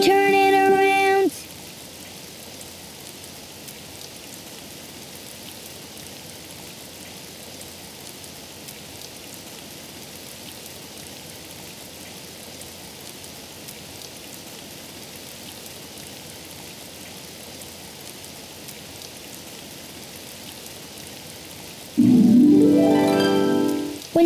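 Steady rain falls outside as a soft, even hiss lasting throughout, with brief louder tonal sounds at the very start and near the end.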